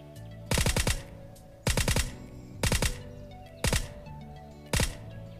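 Gunfire in a mobile shooter game during a solo ranked match: five evenly spaced bursts of rapid automatic fire, each a quick string of loud cracks, separated by brief lulls of background game sound.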